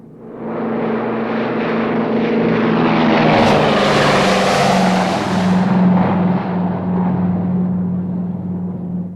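A Canso water bomber, a twin-engine flying boat, roars through its takeoff run as it lifts off, a loud steady propeller drone with a swelling rush of water and wind midway, continuous and close throughout.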